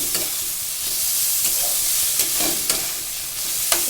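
Tomatoes and a light spice paste fry in a pan, giving a steady close sizzle with occasional sharp stirring clicks and scrapes, no voices.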